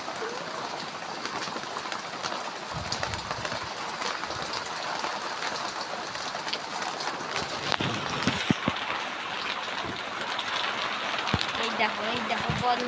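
Rain falls steadily in a rural home setting, a constant wash of patter and drips running under a voice talking throughout, with a few sharper splashes and knocks.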